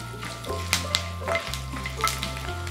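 Peeled garlic cloves frying in oil with dried red chillies for a tomato chutney, a crackling sizzle with several sharp pops, set against steady sustained background tones.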